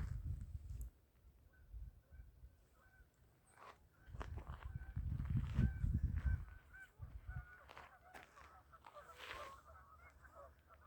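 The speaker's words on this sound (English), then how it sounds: "Geese having themselves a time over there." Geese honking at a nature preserve trail, several calls scattered through the clip, moderately distant, with wind or footsteps rumbling underneath and no talking.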